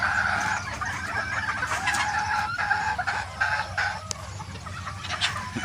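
Hens at a game farm clucking and chattering in a flock, close and continuous, with a rooster crowing and sporadic bird calls mixed in over a low background hum.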